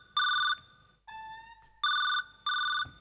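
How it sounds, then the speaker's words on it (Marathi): A mobile phone rings in repeated bursts of a bright electronic tone, with a short falling chime between them. The ringing is close and loud, with no talk over it. "लावा माझ्या मोबाईलवर फोन लावा आता रिंग वाजला"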